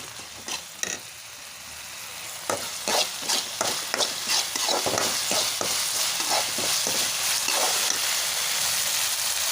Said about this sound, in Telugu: పోపులో అయితే వేయించుకోవాలి అల్లం వెల్లుల్లి పేస్ట్ని